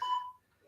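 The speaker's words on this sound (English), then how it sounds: "set my trusty timer, my interval app, love it." An interval timer app sounds a single short, clear electronic beep at the start of a Tabata workout session, fading within a fraction of a second into near silence.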